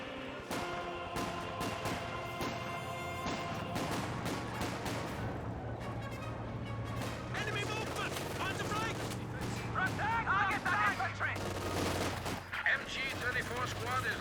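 MG34 machine gun fire in Company of Heroes 2 at an intersection, heard as sustained rapid bursts amid battlefield noise, with a commentator talking over the action throughout.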